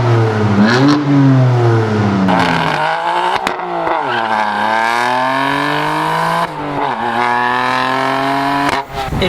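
BMW M4 with a straight-six engine accelerating hard, loud close revving that climbs through the gears with rising pitch sweeps and quick shift drops, continuous and powerful.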